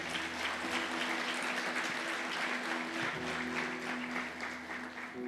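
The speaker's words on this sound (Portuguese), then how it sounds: "Aplauda o Senhor Jesus por isso." A church congregation applauds during a sermon, a dense, continuous wash of clapping from many hands that stays strong for several seconds over sustained instrumental tones.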